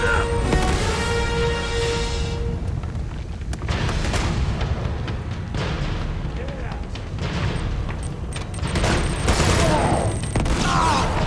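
An enemy blows himself up in the video game Uncharted 2, setting off loud, continuous explosions and bursts of gunfire that fill the whole stretch with heavy rumbling booms and crackling blasts.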